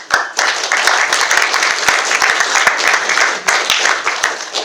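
Loud audience applause at a debate, dense sustained clapping from a crowd filling the room without pause.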